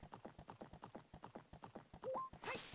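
Horse hooves gallop in a steady, rapid clip-clop rhythm in Zelda: Ocarina of Time randomizer gameplay, with a short game chime and a whinny-like burst at the end.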